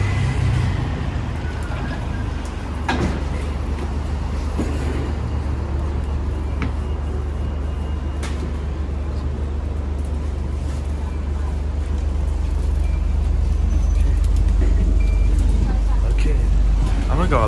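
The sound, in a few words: Alexander Dennis Enviro400H MMC hybrid bus, route 344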